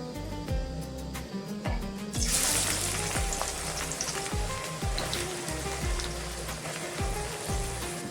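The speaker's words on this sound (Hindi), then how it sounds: "दो मिनट में प्याज को मैं फ्राई कर लेंगे" Onions fry in hot oil in a kadai with a steady, close sizzle that grows louder partway through, while faint low rhythmic thumps repeat underneath.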